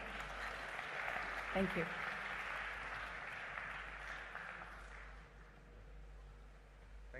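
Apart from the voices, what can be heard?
applause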